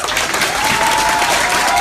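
Audience applause at a political talk, a dense, steady wash of clapping that stays loud and even from start to finish.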